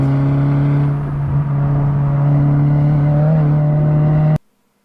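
A race car on a track holds a loud, steady engine drone heard from an onboard rear camera, with a brief rise in revs mid-run before the sound cuts off abruptly.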